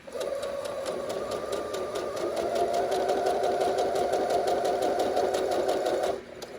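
A sewing machine at medium speed sews a long gathering stitch on fabric for a tiered dress, whirring in a steady rapid rhythm for about six seconds before stopping.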